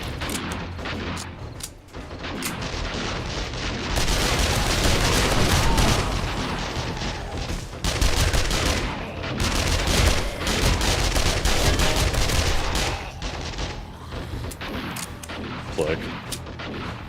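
Heavy, sustained gunfire and explosive booms in the survival game 7 Days to Die, dense rapid shots filling most of the stretch with brief lulls.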